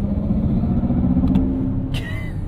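A 2022 Mercedes-Benz EQS 580 electric car accelerates from low speed, its synthetic drive sound a steady, loud low hum and drone, with a brief higher whoosh near the end.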